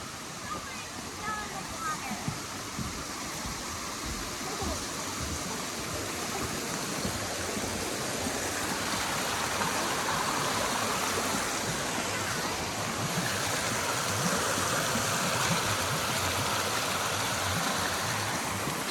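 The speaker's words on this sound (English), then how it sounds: "Mingus Creek that powers this water mill." Mingus Creek pours steadily past a gristmill in the Smoky Mountains, a loud, continuous rush of flowing water filling the whole stretch with no pauses.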